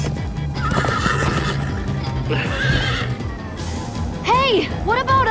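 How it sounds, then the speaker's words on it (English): Horses in the Minecraft Story Mode episode 4 game whinny twice in quick succession near the end, over steady galloping hooves, game music and spoken voices. "Slow down, horse!"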